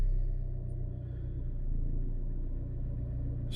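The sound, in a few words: diesel car engine starting and idling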